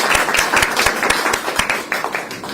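A crowd at a Korean election campaign rally applauds a candidate: dense, loud clapping from many hands nearby, with distinct sharp individual claps throughout and no speech.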